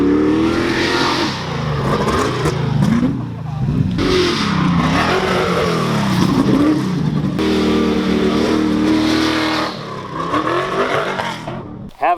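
An off-road race truck runs on a dirt track, its engine loud and continuous with repeated revving surges and shifts in pitch, while voices talk over it throughout.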